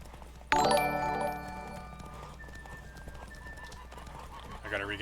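A horse named Roach in The Witcher 3 video game gallops across a cliffside route, with a brief burst of hoofbeats and a whinny early on, then fainter game ambience.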